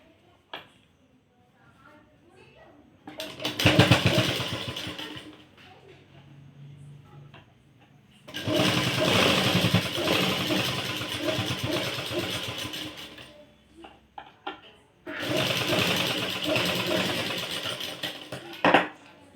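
Electric sewing machine stitching a half-inch hem on a blouse, running in three loud bursts of steady motor whir with quieter gaps and handling between them.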